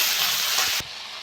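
Spices sizzle in hot oil with potato, okra and small mourola fish in a pan, a close, bright frying hiss that cuts off abruptly partway through.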